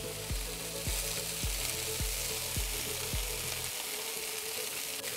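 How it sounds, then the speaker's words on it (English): Diced white onion frying with chorizo in a pan, a soft continuous sizzle under a rhythmic series of low thumps that stop partway through, leaving only the quiet hiss. "Right before the chorizo is cooked, go ahead and add the diced onion."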